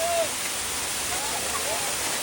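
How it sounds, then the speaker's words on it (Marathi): Rain falling at the Matheran hill station, a soft steady hiss of drops close by, with faint voices briefly in the background. "पण पाऊस"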